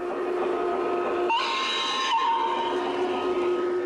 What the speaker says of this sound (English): model trains are the hobby of Carlton McMullen